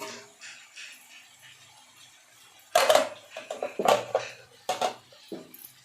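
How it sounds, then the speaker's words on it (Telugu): A spoon scrapes and clanks in a metal cooking pot as chicken is mixed with masala, with quiet shuffling at first, then several sharp close metallic knocks and stirring scrapes. "వేసిన తర్వాత కొంచెం మసాలా పట్టేలాగా కొంచెం మొత్తం అంతా ఇలాగా కలపాలి ఫ్రెండ్స్"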